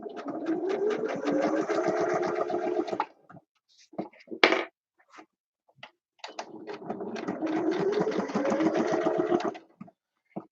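A sewing machine stitching fabric embellishments, two sustained bursts of rapid rhythmic needle chatter of about three seconds each, close and clear, separated by a pause with brief handling clicks.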